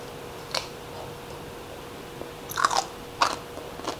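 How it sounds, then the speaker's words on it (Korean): Crunchy cucumber kimchi being bitten and chewed up close, with a few sharp, crisp crunches spaced irregularly over a quiet background, the loudest cluster near the end. "오이가 아삭아삭해요."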